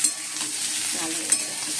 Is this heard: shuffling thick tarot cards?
no